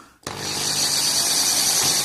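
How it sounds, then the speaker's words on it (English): A small power drill starts abruptly and runs steadily, boring through the buffers of a Trackmaster Percy toy engine with a close, even high-pitched whir. "Right, let's drill through here."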